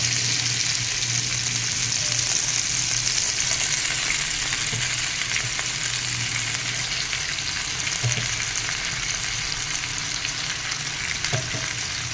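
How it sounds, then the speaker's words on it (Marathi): Potato slices sautéing in a covered pan, giving a steady, even frying sizzle at close range that holds unbroken for the whole stretch. "आणि झाकण ठेवून आपण हे तीन ते चार मिनटं परतून घेऊयात"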